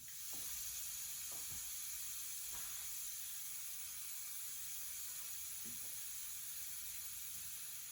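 Belgian waffle batter cooking inside a closed waffle iron, giving a steady, close hiss and sizzle of steam that runs throughout with no voices.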